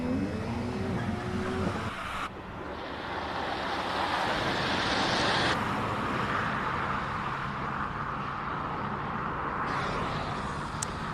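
Race cars thunder past during qualifying at the Simola Hillclimb 2024, a continuous broad engine roar that swells and shifts as cars pass, loud and sustained with no talking.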